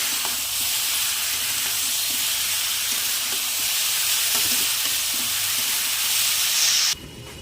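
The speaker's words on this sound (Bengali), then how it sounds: "এবার ভালো করে নেড়ে চেড়ে নেব।" Fried cauliflower is stirred into sizzling masala in a pan, producing a continuous hissing fry with soft scraping strokes that drops off abruptly near the end.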